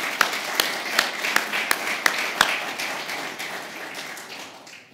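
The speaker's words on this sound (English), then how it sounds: "let's give all of our awardees a round of applause" Audience at an engineering college alumni awards ceremony gives a brief round of applause, with a few sharp, distinct claps standing out before the sound thins and fades.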